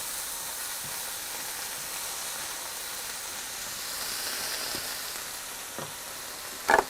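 Bell pepper sautéing in a pan gives a steady, even sizzle and hiss, with a few faint utensil taps and a brief clink at the end.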